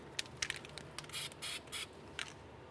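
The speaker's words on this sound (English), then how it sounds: "let's apply a little bit of copper anti-seize along the threaded area" Copper anti-seize is sprayed onto the outer tie rod threads of a 2002-2009 Chevrolet Trailblazer. Three short hissing bursts come between faint clicks and taps, all quiet and close.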